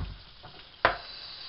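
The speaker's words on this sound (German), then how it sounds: "das muss alles richtig schön brutzeln" Potato dough batter sizzling in oil in a pan, a soft steady crackle broken by one sharp burst of spattering as more batter hits the hot fat, with no talking.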